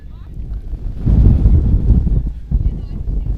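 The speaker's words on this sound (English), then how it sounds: "just to give you an idea wherever you're watching of just how windy it is, if you can't hear the wind in my mic" Gusty wind buffets an outdoor microphone in a wide open space, a low rumbling roar that surges loud after the first second and keeps pounding in uneven waves.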